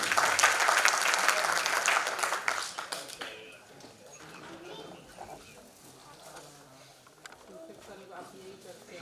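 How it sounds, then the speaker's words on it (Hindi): Audience applause at a staging of the Hindi play Dhruvswamini, loud dense clapping for the first three seconds, then fading into scattered claps and murmuring crowd noise. "तालियों की गड़गड़ाहट रुकनी नहीं चाहिए"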